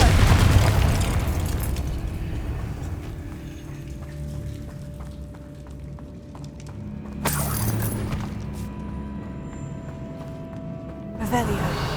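The Confringo explosive spell goes off in Hogwarts Legacy, giving two sharp booming blasts with shattering debris amid background game ambience, while a voice speaks between them.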